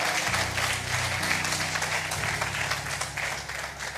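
A church congregation at a family worship service claps in sustained applause, loud and steady throughout, with a low held musical tone underneath.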